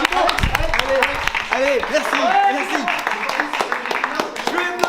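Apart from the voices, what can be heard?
people clapping for the cameraman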